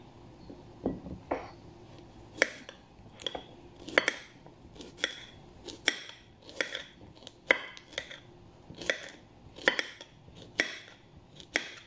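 A knife slicing through cucumber on a board, a series of sharp, irregular cuts and taps roughly every half second to second, close and fairly quiet with no talk.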